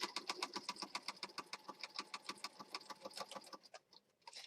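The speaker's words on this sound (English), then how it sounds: "I'm just going to move my sewing machine over a little bit and then stitch." A sewing machine stitches up the sides of a thick, layered handmade junk journal, giving a steady, fast run of close mechanical clicks and thumps that slows and stops near the end, with no talking over it.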